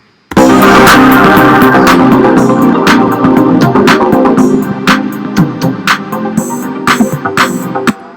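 Sustained open-sounding sus2 chords ring out over a shifting bass line, with light percussive taps growing busier in the second half.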